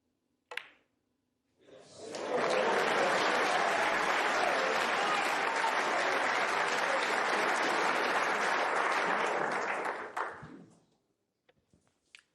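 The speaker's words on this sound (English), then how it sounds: "They've been cheering Mark Selby on to make it close" At a World Snooker Championship match, a crowd breaks into sustained, full applause with some cheering after a sharp click, swelling quickly, holding strong for about eight seconds, then fading into near silence with a few faint taps.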